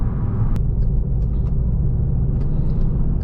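Cabin sound from a 2016 VW Jetta GLI with a 6-speed manual and 210 horsepower while driving, a steady deep engine and road rumble heard from inside, loud and constant with no talk.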